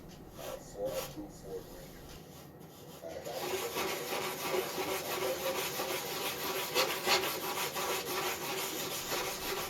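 Rhythmic rasping of sandpaper rubbing over a curved wooden surface, quiet at first and then louder and steady in repeated strokes, with a voice talking over it.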